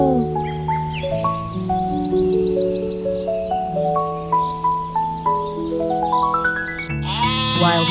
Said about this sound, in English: Wild sheep.